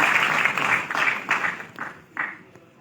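Short bursts of audience clapping at a seminar pre-launch event, rising and fading in a few uneven waves over a few seconds.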